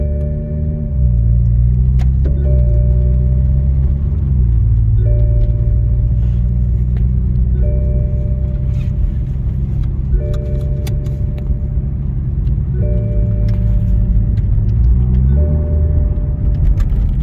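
In-cabin drone of a Toyota Supra with resonator and muffler deleted, a steady low engine hum while driving with gear shifts changing the pitch several times, loud and close.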